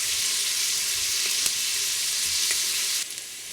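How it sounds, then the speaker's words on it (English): Garlic and onions sauté in an Instant Pot IP-DUO60 electric pressure cooker, giving a loud, steady close-up sizzle with a few brief clicks of stirring. "brown the garlic a little bit while cooking the onions or sauteing the onions until it becomes soft"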